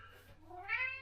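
A house cat lets out a single rising meow that swells and lingers near the close, alone in a quiet room.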